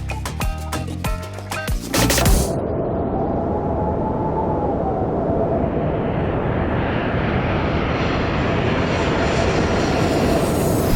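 Cabin of a Delta Premium Select airliner in flight, a dense steady engine and air roar that swells in after a brief burst of clatter and holds loud and constant to the end.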